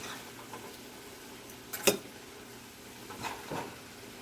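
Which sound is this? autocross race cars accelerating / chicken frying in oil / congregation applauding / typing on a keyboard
chicken frying in oil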